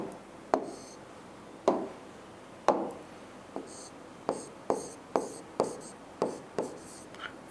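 Handwriting during a Class 10 lesson on refraction of light: about a dozen sharp pen or chalk strokes tapping and scratching at an uneven pace, fairly close and clear, with no talk over them.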